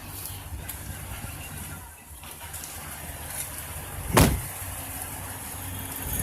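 A 2013 RAM 1500 Sport Hemi pickup engine idles steadily, close by, with one brief louder knock or thump partway through.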